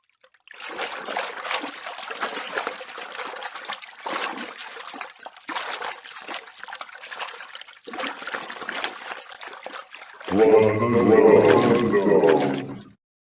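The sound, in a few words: water trickling, from a video game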